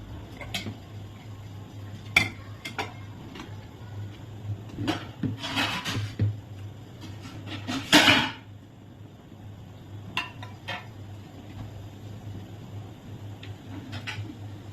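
Metal idli plates clink and clatter as they are stacked into a steamer, scattered light taps and a couple of louder scraping knocks over a steady low hum.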